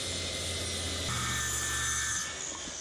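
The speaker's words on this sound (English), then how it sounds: "I'm cutting a piece of wood for the base of the lamp" A saw grinds steadily through a rough-cut wooden board with a continuous rasping whine and a low motor hum, then eases off near the end.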